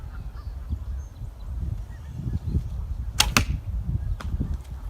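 Heavy 1,000-grain arrows loosed from a French yew longbow give two sharp, close thumps in quick succession amid outdoor ambience with geese honking in the background.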